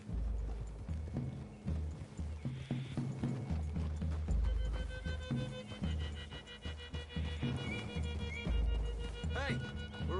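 Horse hooves clip-clop steadily in the Red Dead Redemption 2 video game, several horses moving together at close range under in-game voices and ambient sounds, with a brief whinny near the end.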